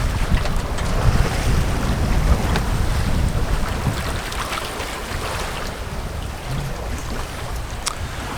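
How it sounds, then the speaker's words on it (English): A sailboat heads across open sea off Brittany, France, toward the Gulf of Morbihan. Steady loud wind buffets the microphone over the constant wash of waves against the hull, and no voices are heard. "Today we're sailing on to the Gulf of Morbihan, which is near a city called Vannes"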